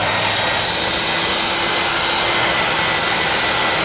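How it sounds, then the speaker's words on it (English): A shop vacuum sucking dust out of the inside of a tire during a repair, heard as a loud, steady, unbroken motor roar with airflow hiss throughout. "we're going to take a vacuum and we're going to get all the little dust and stuff"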